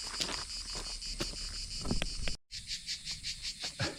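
Cicadas chirping outdoors along a path, a loud steady high buzz with pulsing swells and faint rustling underneath, cut briefly by a short gap of silence partway through.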